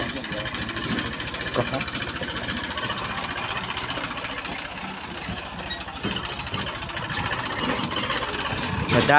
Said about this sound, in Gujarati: ટ્રેક્ટર આવી ગયું છે આપણે